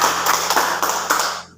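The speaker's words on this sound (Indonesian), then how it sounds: "tepuk tangan buat Sinori." Children in a classroom clap their hands together for a classmate named Sinori, a short burst of loud, uneven claps close by that quickly tapers off to silence.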